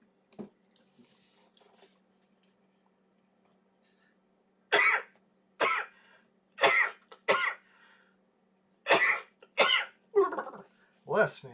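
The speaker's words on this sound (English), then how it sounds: "No, don't worry, I wasn't coughing, I was just sneezing." A person sneezing in a series of about eight sharp explosive bursts, close to the microphone, after a quiet stretch with a faint low hum.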